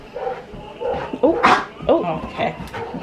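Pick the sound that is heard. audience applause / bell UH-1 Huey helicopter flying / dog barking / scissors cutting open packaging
dog barking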